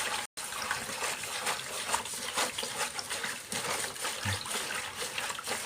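Warm water swirls and trickles as sugar and salt are stirred in to dissolve for bakery-style pastry dough, a close, steady liquid sloshing with faint scraping.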